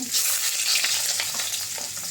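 Ingredients for a steamed lime fish dish, with fish sauce, sugar, salt and lemongrass, sauté in a hot pan. The frying hisses loudly and steadily with stirring noises, close up and without speech.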